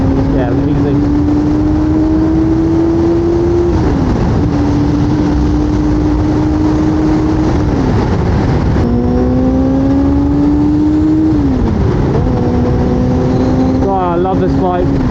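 Sportbike engine accelerating hard through heavy traffic, a loud continuous whine that climbs in pitch through several gear changes, with brief drops at each shift, sustained close to the rider amid wind rush.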